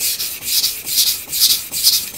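A steel blade is sharpened on a Miyagoshi sharpening stone: close, loud, rhythmic back-and-forth rasping strokes, roughly two per second, steady and repeated with no talk.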